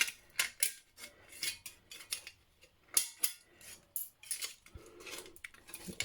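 Scissors snip through tin-can metal in a rapid series of sharp, close clicks and scraping cuts with an irregular rhythm, heard alone without talk.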